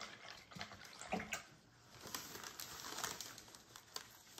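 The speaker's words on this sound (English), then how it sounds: "wash my brush" Paint brush rinsed in a water cup during a deer painting: quiet sloshing and light splashing with small taps, close and soft, no talking.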